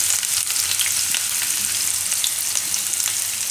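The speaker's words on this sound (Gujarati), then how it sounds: "હવે લીલી હળદર, થોડીક વાર બધું તેલમાં ફેરવી લેવાનું." Green chilies and fresh turmeric frying in hot oil for a soupy pasta give a steady, close sizzle with a faint crackle throughout, and nothing else is heard.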